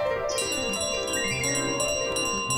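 A bell rung in the video game Untitled Goose Game, bright ringing tones repeating and overlapping in a steady sequence, clear and fairly close, with no talking over them.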